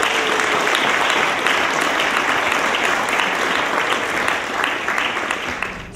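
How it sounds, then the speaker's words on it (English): A conference audience at a creative industry event in Sweden applauds a panel, with dense, sustained clapping filling the room evenly for several seconds before tapering slightly at the end. "Please give our panel a big round of applause."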